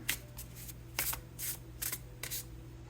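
Inner child oracle cards shuffled by hand, several short papery riffles in bursts over a steady low hum, quiet and close.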